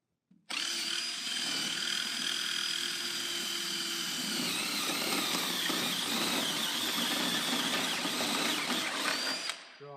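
A power drill with a step bit whines steadily as it bores through an aluminum beam for about nine seconds, starting abruptly and cutting off near the end, close and loud.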